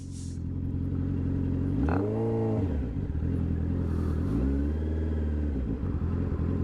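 A Honda CB650R motorcycle riding through city streets in the evening, its engine humming steadily up close, then revving up and easing off twice with rising and falling whine.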